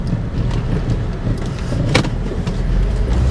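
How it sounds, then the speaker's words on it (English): A high-mileage 312k-mile Honda Accord engine misfires on several cylinders while pulling away, a rough, uneven low rumble inside the car with a sharp knock near the middle. "go ahead and take off, and we can see how it kind of shudders and jerks, and it's really missing on a lot of cylinders here"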